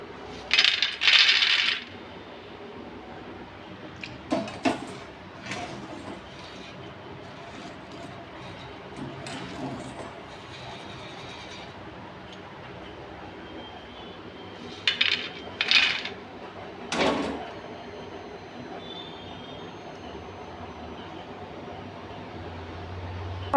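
Roasted peanuts lifted from hot salt with a metal slotted spoon, giving bursts of gritty, clinking rattles and scraping that come and go in several short clusters, loud and close, with quieter stretches between.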